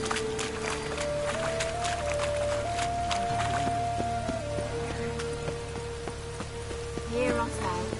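Rain patters continuously in The Witcher 3: Wild Hunt, a steady wash of drops under tonal game sounds and a brief voice.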